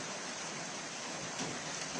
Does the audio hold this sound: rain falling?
yes